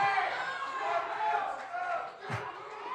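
A crowd at a Pi Day pie eating contest cheers and shouts in a sustained, loud wall of voices, with an announcer talking over the noise and a brief sharp burst near the end.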